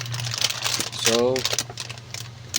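A plastic LEGO Technic parts bag for the Bugatti Bolide set 42151 crinkles and rustles in close bursts through the clip, with a brief tonal squeak in the middle and a voice talking alongside.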